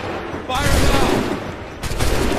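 Musket volley fire in Assassin's Creed III: two loud, crackling bursts of massed musket shots, one near the start and another about a second later, with battle noise and voices in the background.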